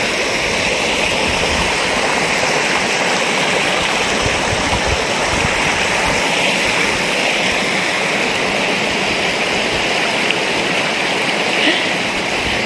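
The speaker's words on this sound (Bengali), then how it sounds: "এই রংভং নদী বয়ে চলেছে।" The Rangbhang river rushes over rocks in Tabakoshi, a loud, steady broadband roar of flowing water that runs unbroken and close by, with no voices.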